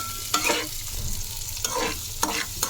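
An ingredient slowly roasts in a pan over low gas, a soft steady sizzle broken by three or four scraping stirs of a spoon, close by and with no talking.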